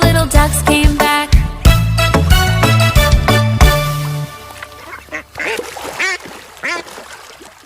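Sung duck quacks in a cheerful children's nursery rhyme about five little ducks, a voice imitating the repeated quack over a bouncy music backing with steady melody and beat.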